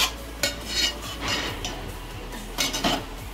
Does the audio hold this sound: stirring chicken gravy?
yes